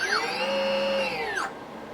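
The electric motor of an RC glider is throttled up, a close whirring whine rising and holding for about a second and a half before cutting off abruptly.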